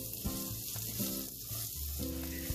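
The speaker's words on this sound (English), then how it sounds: "The sesame seed has started spluttering" Sesame seeds spluttering and sizzling in hot oil on a medium gas flame while bottle gourd muthiya fry, a steady close crackle with brief stirring clatters over it.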